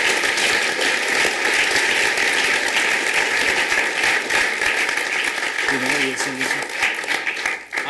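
An audience at a conversation about architecture applauds in a dense, steady wash of clapping that fills the room, with a voice briefly heard near the end.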